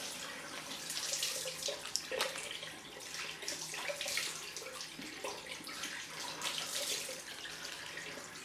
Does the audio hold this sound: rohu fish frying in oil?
no